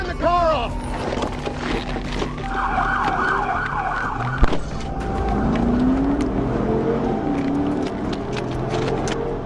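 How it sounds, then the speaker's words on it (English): A muscle car's engine roars during a nighttime police chase, with sirens wailing and passing traffic mixed in, loud and continuous, while people talk over the commotion. "The muscle car roars"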